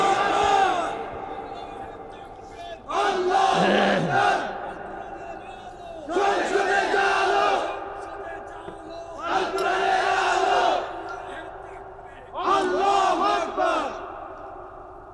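A large crowd at a Bangladeshi religious gathering in Comilla answers a takbir call with repeated loud unison chanting of Allahu Akbar, about five rhythmic shouted bursts separated by short pauses.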